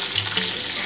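Potatoes sizzle steadily in a hot pan with salt and turmeric for a Bengali bata fish curry, a brief, even crackle under a second long with no voices.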